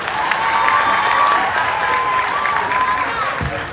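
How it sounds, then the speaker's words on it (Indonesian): A live audience applauds steadily throughout at a comedic religious talk show in Indonesia, a dense crowd of clapping hands with a few cheers mixed in, loud and sustained from start to finish. "Tepuk tangan dulu buat perempuan."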